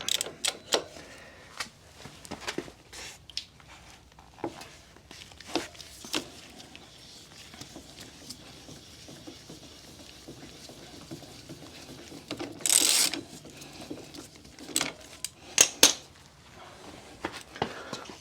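A 19mm Allen key on a ratchet works the front axle of a 2024 Harley-Davidson CVO Road Glide, giving irregular close clicks and metallic taps with quiet gaps and a brief louder rattle of tools.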